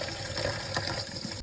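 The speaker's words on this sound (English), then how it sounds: "I'm just gonna rinse it out in the sink" Water runs steadily from a sink tap as a container of water putty is rinsed out, giving a continuous close gush with a few brief splashy surges.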